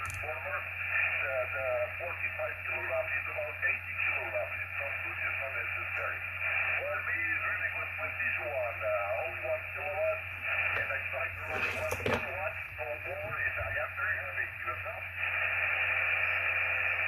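Broadcast audio from a strong radio station tuned in on a Malahit DSP clone SDR receiver, carrying speech-like program sound over a steady hum and band noise throughout, with a brief static burst near the middle.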